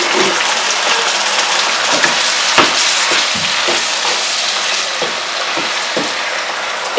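Water poured into a pan of frying tomato brings a loud, crackling sizzle that sputters on for several seconds, with scattered pops and stirring scrapes.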